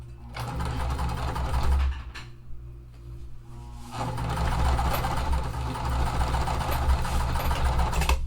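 Sewing machine stitching small quilt pieces for a Small Lemonade quilt, a loud steady hum of stitching with a short pause midway before it resumes, close by.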